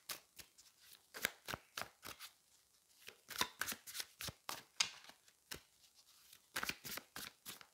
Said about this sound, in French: on va aller prendre d'autres cartes. Je vais reprendre 3 cartes.